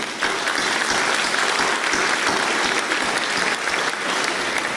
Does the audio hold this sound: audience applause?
yes